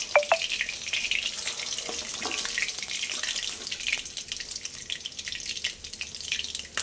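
Pabda fish frying in oil, a busy hissing sizzle with scattered pops and crackles, fairly close and steady.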